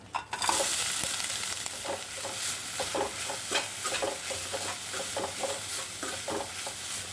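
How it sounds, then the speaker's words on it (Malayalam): A spice mix for roasted ground masala fries in hot coconut oil for a breadfruit curry, a loud, close sizzle broken by repeated rhythmic scrapes of stirring in the pan. "എണ്ണ ചൂടായിട്ടുണ്ട് നമുക്ക് വറുത്തരയ്ക്കാനുള്ള കൂട്ടിട്ട് കൊടുക്കാം"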